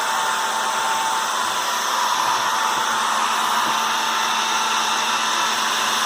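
A heat gun blows a steady, even whir with a faint tonal hum while warming sticker markings on a foam model rocket shuttle kit, running continuously up close with no talking.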